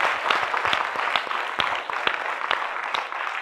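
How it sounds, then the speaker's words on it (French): Audience clapping at a live café show, with distinct claps standing out from a lively crowd in a loose rhythm, close and fairly loud. "On va applaudir pour sa copine."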